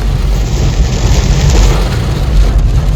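Heavy rain pours down on the road to Pali in a steady, dense roar that never lets up, with a deep low rumble underneath.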